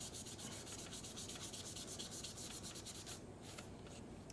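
Steady, close rubbing and scratching of spongy sandpaper moving back and forth over a carbon fiber steering wheel cover, with rhythmic strokes and no voices.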